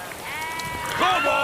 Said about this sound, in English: Will you move your sheep?